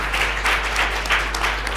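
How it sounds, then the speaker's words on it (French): Audience applause at a Malian women writers' network event, a full, steady patter of many hands clapping together throughout, with a constant low hum underneath and no speech. "je vous demande d'applaudir"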